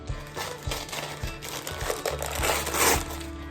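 A package containing three books is torn open by hand, with dense crinkling and ripping of wrapping close up, rising to a louder tearing burst near the end.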